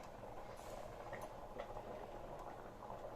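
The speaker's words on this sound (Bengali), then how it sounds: "চালটা দিয়েছি সঙ্গে সঙ্গে ফুটছে" A pot of rice bubbles at a steady low boil for pulao, with faint pops and ticks over a constant soft simmering hiss.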